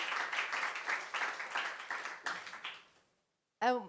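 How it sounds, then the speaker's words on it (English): A brief round of applause from a forum audience for expert panelists, close-sounding clapping for about three seconds that stops abruptly, followed after a pause by a speaking voice. "So perhaps a brief round of applause for our expert panelists"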